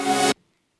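A reversed sample in FL Studio, a single harmonic swell rising and cutting off abruptly after about a third of a second, followed by silence.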